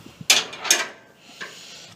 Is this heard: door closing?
yes